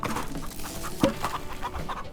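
Chickens cluck in the Farm Together farming video game, short soft clucks scattered over a steady background hum, with one sharper call near the middle and no talking.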